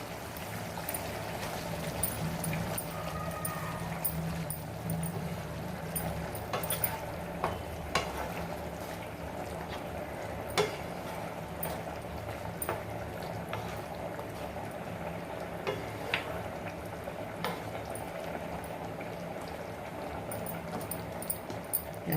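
Homemade masala frying in a pan with mutton, prawns and eggs, a continuous soft sizzle and crackle with occasional stirring scrapes, close and steady throughout.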